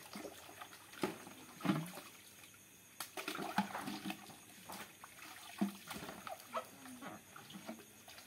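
Water is poured and splashed at a new chicken farm in uneven bursts, with some louder gushes, while animal noises and farmyard sounds rise and fall around it.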